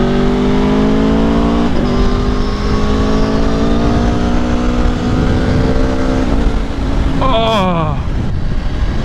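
An Aprilia Tuono V4 Factory naked motorcycle being ridden: a loud, close engine drone with steady wind rush, rising revs, then a sharp upshift and a quick climbing rev near the end.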